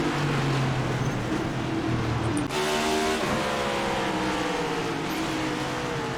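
A race car engine downshifting during a NASCAR iRacing race at Martinsville Speedway, a steady loud engine drone with stepped pitch changes near the middle as gears drop, continuous throughout.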